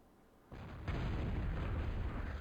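T2 artillery firing in the video game Total Annihilation ProTA, a sudden heavy rumbling blast that kicks in after a quiet moment, steps up louder and sustains as a dense booming roar.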